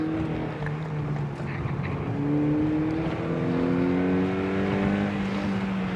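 Mazda Miata NC engine on a track hot lap, a loud close harmonic drone that rises in pitch through the gears, steady and continuous with a brief lift and re-climb.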